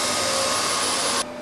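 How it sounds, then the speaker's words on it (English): A glue-coating machine for drum shell veneer plies runs with a steady, loud mechanical whir and hiss at close range, cutting to a quieter hum near the end; no talking. "With this machine, the veneer plies, which have been cut to the right size, are being covered with glue on their bottom side"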